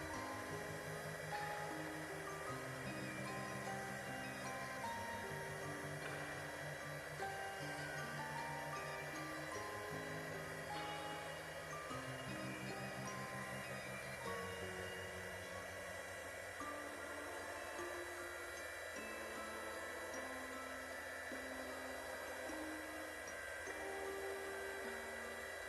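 Heat gun drying the natural fibers of a miniature witch broom, a faint, constant blowing hum that holds steady throughout with no talking.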